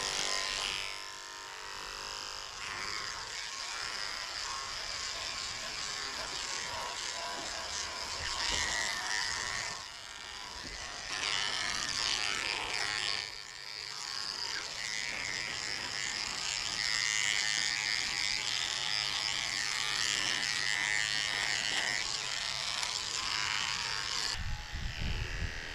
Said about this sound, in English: So I'm shaving out the pads of her feet very well with a 40 blade.